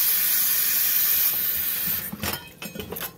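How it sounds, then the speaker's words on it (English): Water boiling in a pot while cooking Jamaican jerk pork and escovitch fish gives a steady loud steamy hiss for about two seconds, then breaks into softer uneven bubbling bursts. "the water is boiling"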